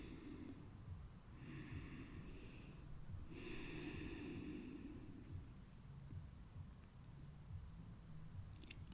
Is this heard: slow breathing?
yes